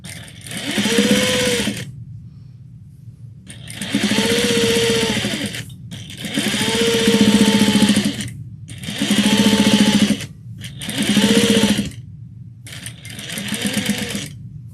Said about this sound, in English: To sew over pins.